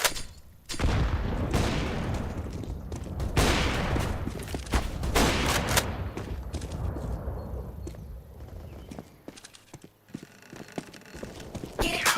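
Counter-Strike: Global Offensive combat with repeated loud grenade blasts and bursts of gunfire, sharp booms and rattling shots clustered early, thinning into scattered cracks and clatter toward the end.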